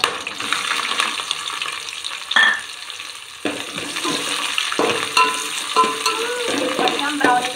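Onion and green chillies frying in oil with whole spices for chicken pulao, a close sizzle interrupted by repeated spatula scrapes and taps against the pan.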